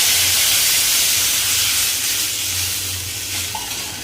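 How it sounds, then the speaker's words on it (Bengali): Water for the curry poured into a pan of frying katla fish and pointed gourd, a loud close hissing sizzle and burst of steam that gradually eases over a few seconds. "এবার আমি ঝোলের জন্য যে জল নিয়েছি সেই জলটা দিয়ে দেবো"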